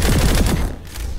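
Rapid automatic gunfire from a rifle in the shooter game Planetside 2, a dense loud burst of close shots that stops abruptly after about half a second, followed by a brief mechanical tail.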